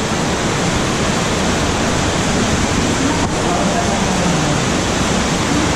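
Rushing water current flows steadily through Bagumbungan Cave in a continuous broadband roar, loud and close, with a faint voice underneath.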